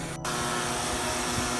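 A homemade induced-draft flue blower on a wood burner whirs steadily with a broad, airy roar that holds constant after a brief gap at the start, with no voices over it.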